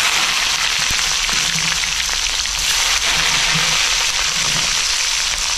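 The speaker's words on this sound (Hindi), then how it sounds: "तड़का लगा लेते हैं।" Cumin, asafoetida, garlic, dried red chili, green chili and onion hit hot oil for a tadka for bathua dal in an Indian village kitchen, giving a loud, steady, close sizzle and crackle that carries on without a break.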